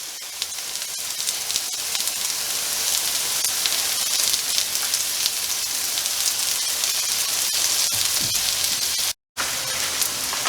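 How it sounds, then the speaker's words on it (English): Mushrooms and onions fry in butter in a pan with a steady, loud sizzle and hiss that runs throughout, broken by a brief drop near the end. "Let's, in the meantime, cook these mushrooms with the onions. I'm going to give it another pat of butter."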